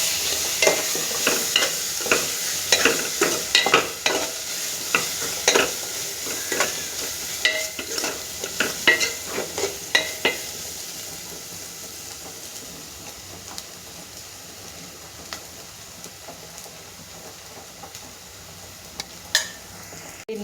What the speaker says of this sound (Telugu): ఇవన్నీ ఒకసారి కలిసేలా బాగా కలుపుకుందాం